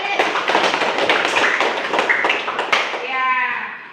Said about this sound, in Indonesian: Beri aplaus untuk satu ini.